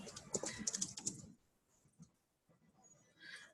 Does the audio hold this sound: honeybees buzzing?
no